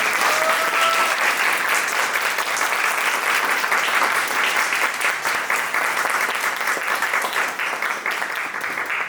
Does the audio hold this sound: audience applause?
yes